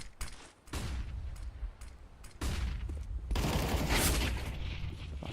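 Counter-Strike match on Nuke at a major tournament: dense bursts of rapid gunfire, clustered automatic shots with brief gaps, loud and sustained toward the end.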